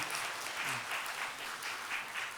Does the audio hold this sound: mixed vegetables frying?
no